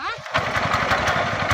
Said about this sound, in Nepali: ट्र्याक्टर पनि स्टार्ट भयो